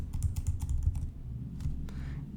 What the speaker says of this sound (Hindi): आप सिंपली डबल एस्ट्रिक डाल के एंटर मारते जाओ